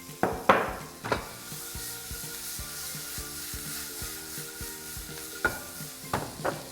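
Tomatoes fry in a pan for an onion-tomato chutney with a soft, continuous sizzle, broken by a few sharp spatula scrapes and knocks against the pan.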